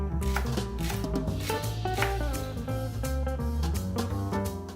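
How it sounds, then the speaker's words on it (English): A knife slices spring onion very thinly on a board for a tuna tartare, giving quick, irregular cutting taps layered over steady background music. "We will also slice very thinly that spring onion"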